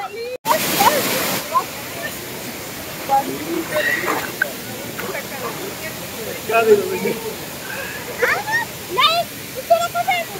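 Water pours steadily at the Dawki waterfall in Meghalaya, a constant rushing hiss beneath someone talking throughout, with a brief sharp burst at the start.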